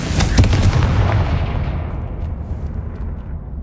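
The Confringo blasting spell explodes in Hogwarts Legacy with a loud booming blast and crackling burst up front, then rumbles and fades away over a few seconds, no speech.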